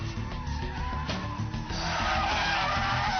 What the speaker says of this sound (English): The power slide through a bend